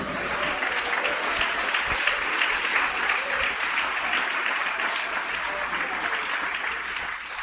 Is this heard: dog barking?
no